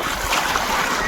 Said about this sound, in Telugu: అంతవరకు వెళ్ళిన తర్వాత చాలా అంటే చాలా వాటర్స్ వస్తున్నాయి.